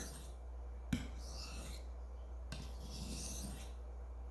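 A metal blade is drawn across a whetstone for refining after a hard Arkansas stone, giving two or three close, smooth rasping strokes with a sharp tap near the start.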